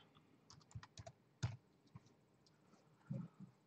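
Computer keyboard keys pressed while modelling in Fusion 360 software, a handful of separate clicks with one sharper, louder press midway and a final firm keystroke, close and quiet with no talk.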